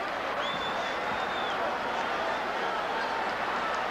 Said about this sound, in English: Listen to this crowd on their feet